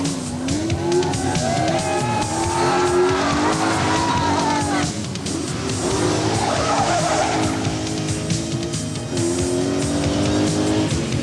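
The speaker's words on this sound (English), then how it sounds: "On roads that were sometimes so narrow that it looked difficult to fit the big Rover between the banks, Pond, as ever, didn't put a wheel wrong." A big Rover rally car skids on wet, narrow Ulster roads hemmed in by banks, its engine roaring steadily while tires squeal in long wavering tones, loud and continuous throughout.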